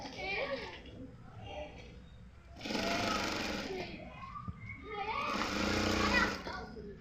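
A sewing machine stitches latkan fabric in two bursts of fast mechanical whirring, each running a couple of seconds, separated by quieter gaps where a voice talks.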